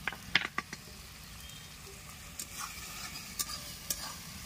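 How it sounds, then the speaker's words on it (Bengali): Cauliflower is stirred in hot oil with dried red chili paste for a Bengali cauliflower roast. A spoon scrapes and clacks against the pan in a few sharp strokes over a soft, continuous sizzle, with no talking. "কন্টিনিউসলি নেড়ে চলে যাবেন কিন্তু আপনারা, নাহলে লেগে যেতে পারে।"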